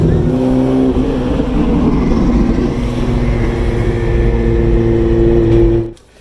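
Sports cars, a Nissan GTR and a Lamborghini, rumble loudly nearby at a muscle car cruise in Ocean City, Maryland, a sustained deep engine drone that holds steady before cutting off abruptly near the end.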